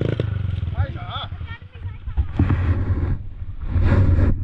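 A motorcycle on a kids' trail ride runs its engine at low rumbling revs, rising and falling unevenly, while people talk close by over it.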